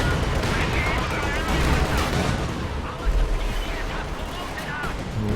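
Battle din from Company of Heroes 2, a World War II strategy game, with a Katyusha rocket artillery barrage heard as steady rumbling explosions and scattered gunfire in a loud, continuous wash. A voice talks over the combat.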